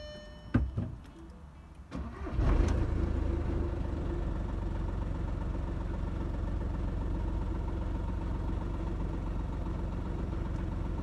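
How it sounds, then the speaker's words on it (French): Diesel engine of a Volkswagen Polo 4 cranks with a few brief clicks, catches around two seconds in, then settles into a steady, even idle heard close up with no talking. "Maintenant on va lancer le moteur."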